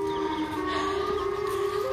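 In a horror video game, the monster Siren Head blares a loud, sustained siren wail, steady tones droning continuously over a noisy ambient backdrop without any voices.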